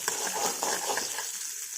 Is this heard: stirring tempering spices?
yes